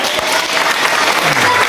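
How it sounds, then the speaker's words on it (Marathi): Loud, dense applause from a group of children in a classroom, cheering the winner of a maths ladder game; steady clapping fills the whole moment without a break. "जोरदार टाळ्या"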